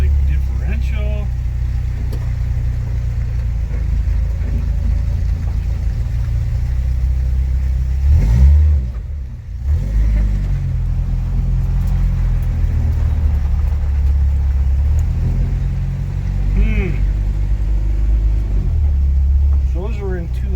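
Engine of a 1988 Jeep YJ, left abandoned for years, rumbles and revs steadily in the foreground. A brief dip and surge comes midway, and people talk over the noise throughout.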